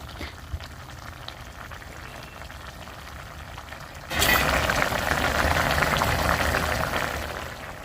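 Fish curry in a pot comes to a boil: a faint background simmer that swells midway into a loud, steady bubbling and hissing boil, close up and without talk.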